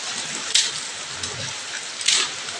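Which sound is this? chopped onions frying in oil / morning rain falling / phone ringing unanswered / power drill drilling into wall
morning rain falling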